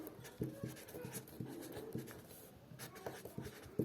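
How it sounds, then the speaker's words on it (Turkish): Writing on a board during a fourth-grade Turkish math lesson on place value: a quiet series of short, scratchy strokes and taps in an irregular rhythm, with no voices. "Hemen yazayım."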